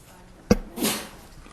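A single sharp sneeze bursts out in a quiet courtroom, followed by a short breathy trailing burst, fairly close and alone without talk.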